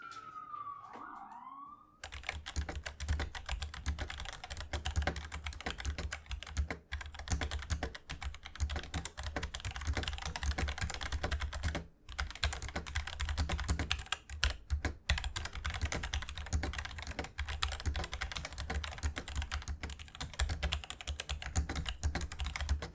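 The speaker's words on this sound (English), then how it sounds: "So, what's it like to type on? Let's find out." Steady rapid typing on a Logitech G Pro mechanical keyboard, dense continuous clacking heard close up and alone for about twenty seconds after a brief opening sound, with only short pauses.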